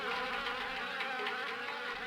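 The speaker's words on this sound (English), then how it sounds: "I hate wasps, and there's a lot of wasps." Dense, steady buzzing of a swarm of wasps in the 1996 DOS horror game Harvester, a continuous insect drone filling the whole stretch with no speech.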